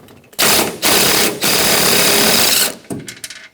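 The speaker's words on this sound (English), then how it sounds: "I saved for last because I can use a air tool or electric tool on it. 13mm socket." Power impact tool with a 13mm socket loosening the top strut nut on a 2008-2013 Nissan Rogue front strut, heard as loud rattling hammering bursts in three main runs separated by short pauses, with a few brief taps at the end.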